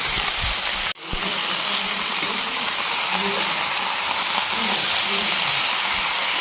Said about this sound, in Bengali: এবার পরপর সব সবজিগুলো আমি এর মধ্যে চাপিয়ে দেবো সিম আর বেগুনটা দিয়ে দিচ্ছি ফুলকপি আলু আর বাঁধাকপি